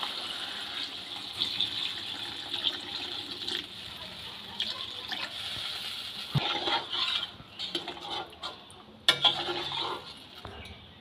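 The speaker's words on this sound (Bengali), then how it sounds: "এবার জল দিয়ে দেবো, জলটা দিয়ে দিলাম" Water is poured into a pot of thin ridge gourd and potato curry meant for rohu fish, a splashing fill with clinks and scrapes of the pot, uneven in loudness and close by, with no voices.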